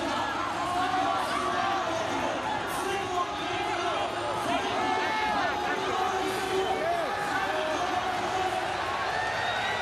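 A huge arena crowd of over 43,000 at Saitama Super Arena for a Pride Final Conflict 2004 fight night, producing a steady dense roar of murmuring and cheering throughout, with voices mixed in.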